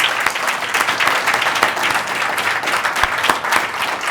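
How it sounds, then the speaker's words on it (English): An audience claps for a student at an innovation showcase event, a dense, steady wave of applause that fills the room and holds at an even level throughout. "Can we please all give a round of applause to Juan Alcivar?"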